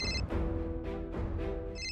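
A phone rings in repeated electronic bursts with short gaps between them, clear and moderately loud, with no voices.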